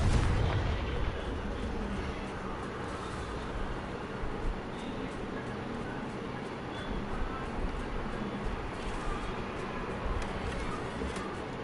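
Repeated blasting-spell explosions in Hogwarts Legacy rumble through dense, continuous game noise, with booming low thumps layered under a steady wash of combat sound and faint bursts scattered throughout.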